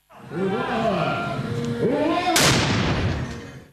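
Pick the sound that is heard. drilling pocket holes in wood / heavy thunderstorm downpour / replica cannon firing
replica cannon firing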